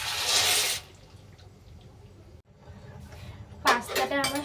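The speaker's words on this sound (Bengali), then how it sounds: "জলটা আমার ফুটে গেছে, আমি এবার পাস্তাগুলো দিয়ে দেবো।" Dry pasta tipped into a pot of already boiling water gives a loud, broad watery splash and rush that quickly drops to a low simmering bubble, then a second burst of sloshing near the end.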